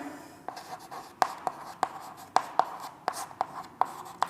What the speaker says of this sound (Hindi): यहाँ पे यहां से हम लिखेंगे यहाँ पर